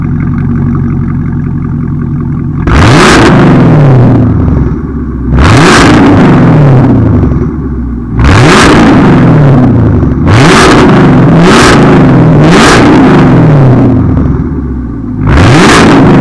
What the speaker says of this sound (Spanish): voy a prender el carro, le voy a pisar para que escuchen